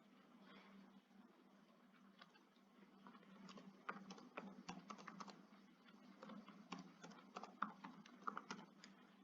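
A computer keyboard is used to type an email address into a registration form, producing quick, close clicking keystrokes in uneven bursts that grow busier toward the end, with no talk.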